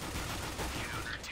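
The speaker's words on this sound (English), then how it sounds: "I'm going in with my dual pistols" Dual pistols firing in Counter-Strike: Global Offensive, a rapid burst of overlapping gunshots at modest volume with a dense, continuous crackle over the short stretch, with other game noise behind it.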